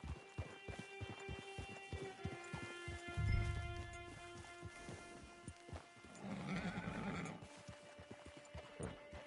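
A horse in Red Dead Redemption 2 Online, the video game, clip-clops along with a steady rhythm of hoofbeats and lets out whinnying neighs partway through, fairly faint and heard alone.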